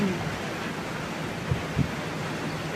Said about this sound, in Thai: ฝนตกหนักด้วยฝนสาดด้วย